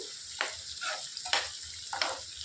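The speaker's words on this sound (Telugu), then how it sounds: "ఉల్లిపాయలు అనేవి మంచిగా ఫ్రై అయిన దాకా వేయించుకోవాలి." Onions fry in a pan for gongura curry with a soft, constant sizzle, broken by four quick stirring scrapes at a steady pace, close but fairly quiet with no talking.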